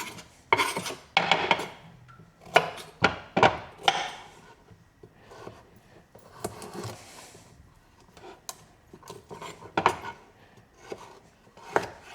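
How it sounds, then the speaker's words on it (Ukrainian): Irregular bursts of knife strokes chopping parsley on a cutting board, quick clusters of taps separated by short pauses, close and clear. "Миємо і починаємо нарізати."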